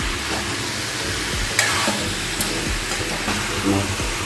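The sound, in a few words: sautéing and stirring jackfruit chicken curry in a pan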